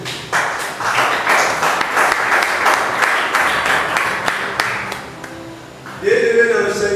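Church congregation bursting into rhythmic applause, a dense run of clapping lasting several seconds before a preacher's voice takes over near the end.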